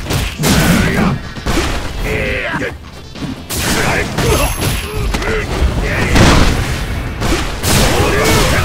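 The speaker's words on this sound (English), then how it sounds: "Hadouken." Street Fighter V match with a Hadouken special move among dense booming impacts and crashes, loud and continuous, with an announcer-style voice and game effects layered over the fight.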